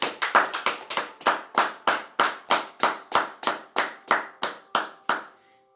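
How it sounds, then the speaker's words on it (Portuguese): A church congregation claps in slow unison, roughly sixteen crisp, even beats in a steady rhythm before the clapping stops and fades. "Dando glória a Deus e aplaudir o Senhor em nome de Jesus Cristo"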